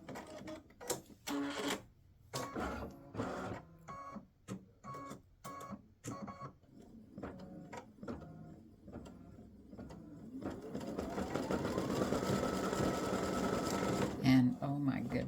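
An embroidery sewing machine stitches a freestanding-lace pretzel earring design, its needle beating in a steady mechanical rhythm with short pauses and thread-trimming clicks, then settling into a denser continuous whir near the end, close and clear.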